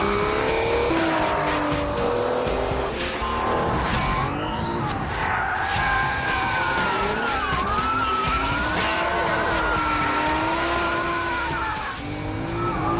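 An Aston Martin DBS is driven hard on a track with its adaptive suspension in track mode, the engine note rising and falling loudly through gear changes while the tyres squeal through corners, close and continuous.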